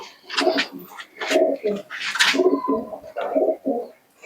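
Giribaz and Matraj pigeons cooing up close, repeated soft throaty coos in uneven bursts with brief pauses between calls.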